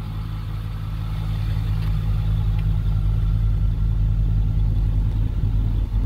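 Diesel engine of a 2008 Ford F350 dually 4x4 crew cab truck idling steadily, a loud, low, even rumble up close with no revving and no talk.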